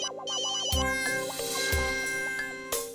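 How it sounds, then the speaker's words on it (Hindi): A mobile phone rings indoors with a melodic electronic ringtone that repeats a short tuneful phrase, loud and close, while a sharp catlike squeal sounds over it. "फोन बज रहा तेरा फोन बज रहा है"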